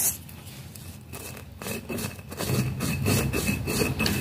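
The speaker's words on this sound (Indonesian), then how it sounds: "aku akan menghaluskan dengan menggunakan cobek" Spice paste is ground in a cobek stone mortar, giving a close rhythmic scraping and rubbing that grows louder and steadier toward the end, with no talk.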